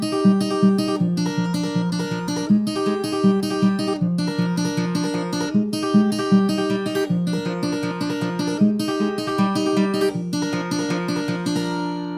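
Fingerpicked acoustic guitar plays a steady repeating arpeggio pattern, bright plucked notes ringing over a low bass line, alone and moderately loud.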